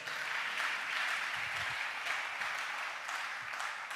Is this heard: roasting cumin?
no